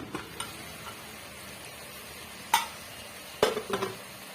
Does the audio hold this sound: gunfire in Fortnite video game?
no